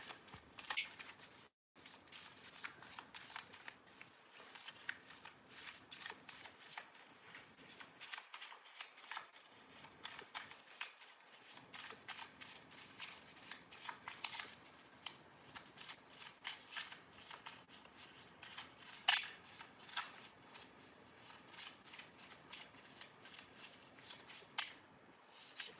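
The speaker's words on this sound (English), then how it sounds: "you guys just watched me shuffle" Tarot cards being shuffled during a live reading, a steady stream of crisp, papery riffling and flicking that runs almost continuously at close range, with brief pauses and no talking.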